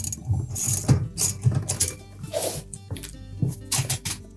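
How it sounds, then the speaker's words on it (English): A socket wrench ratchets in quick clicking strokes while loosening the retaining nut on a GE range's convection fan, with close, crisp repeated ratchet clicks and brief pauses. "a 1/2-inch or a 13mm socket or wrench, we'll remove that retaining nut in the center"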